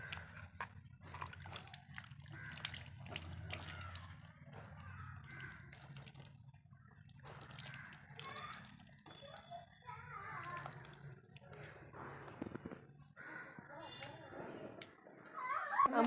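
Quiet water trickling and splashing, poured onto plants in short bursts, with soft voices talking nearby.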